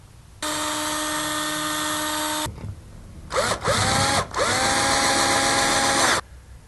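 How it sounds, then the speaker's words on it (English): A power drill bores mounting holes into a wall for a classroom audio system: one steady two-second whine, a brief pause, then a stuttering restart and a longer high-pitched run, loud and close. "So then I marked my holes for drilling."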